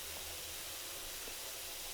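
A pressure washer in PowerWash Simulator sprays a dinosaur slide on a playground, giving a steady, even hiss of water that stays constant and fairly faint throughout.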